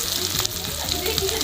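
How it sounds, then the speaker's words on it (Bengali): Potato pieces fry in oil with previously fried onions in a pan for a potato-and-prawn curry, producing a steady, close crackling sizzle with a few sharper pops and no pauses. "আলুটা আমার ভাজা হইতেছে"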